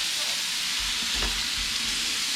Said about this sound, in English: Alright, so the sausage is browning.